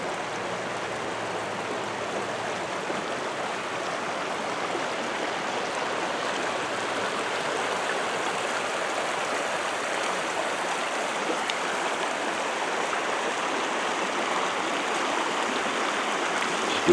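A river stream flows steadily outdoors, a constant, broadband rushing of water that fills the whole stretch at an even level, with no voices.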